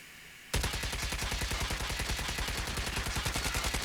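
SKS rifle fire in COD Mobile: after a quiet moment, a long rapid string of sharp, evenly spaced shots sounds close and loud, with no talking.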